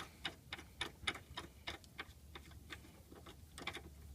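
A socket wrench loosens a nut and bolt on the rear lower suspension arm of a Mazda RX-7 FD3S, giving quiet, rapid ratchet clicks in an irregular series with faint background hum.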